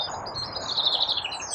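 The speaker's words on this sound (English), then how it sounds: "I can see some birds." Small birds chirp outdoors in spring near a pond, a dense high twittering that carries on steadily at moderate distance over a soft background hiss.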